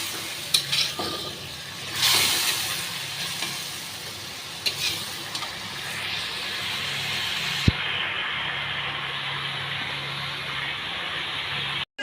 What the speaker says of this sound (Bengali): আরও কিছুক্ষণ একটুখানি কষিয়ে নেবো ভালো করে